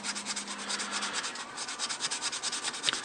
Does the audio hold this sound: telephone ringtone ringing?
no